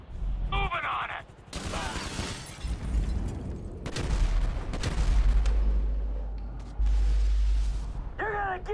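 Bursts of gunfire from a GTA 5 shootout ring out loud and close across the scene, with heavy booms and rattling volleys mixing with shouted voices and game audio.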